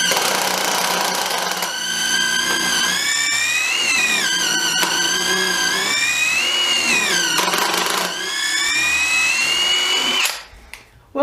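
A Makita impact driver fitted with a drill chuck whines at full speed, a loud, rising and falling motor pitch with brief dips and surges, then cuts off sharply near the end; nobody speaks.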